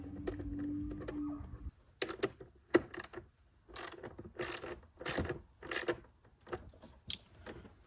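A ratchet tightening a 10mm bolt on an S650 Mustang, with bursts of rapid metallic clicking in short strokes, close and clear, after a brief low mechanical hum.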